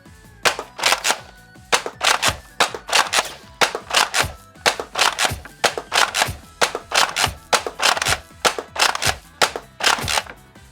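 An X-Shot toy dart blaster fires rapid bursts of darts, each burst a cluster of sharp, close snapping pops repeating in a steady rhythm with short gaps between them.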